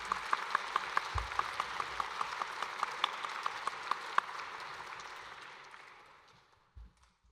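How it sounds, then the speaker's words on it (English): Audience at a student invention awards ceremony, made up of teachers and parents, applauding. Dense clapping with a few sharp, rhythmic claps standing out, fading gradually toward the end, followed by a dull bump near the close. "You deserve a big round of applause for that."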